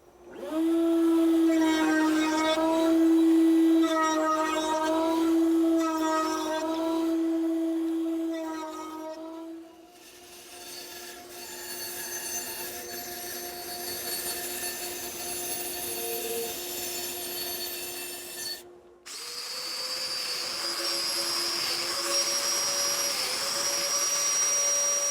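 Router table cutting a roundover on wooden bookshelf parts, a loud sustained high-pitched whine with tonal harmonics, pulsing in short passes, then a long steady cut, a brief drop and a resumed run.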